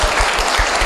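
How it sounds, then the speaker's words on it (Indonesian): Audience applause at a meetup with online programming lecturers: a short, dense burst of clapping from a crowd, steady and fairly loud throughout. "Boleh tepuk tangan dulu ya."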